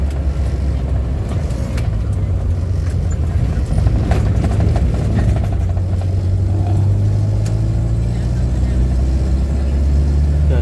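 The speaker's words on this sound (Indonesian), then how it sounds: "yang terpenting kita merasakan suara mesin, merasakan tarian mesin" Suzuki Carry 1000 engine rumbling steadily while driving slowly, a low continuous drone with light road noise and occasional knocks, close and loud throughout.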